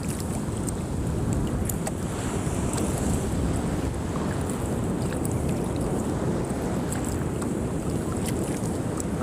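Ocean waves wash against the shore at Westbrook where someone is fishing, a constant rushing surf mixed with gusty wind buffeting the microphone, loud and unbroken with no voices.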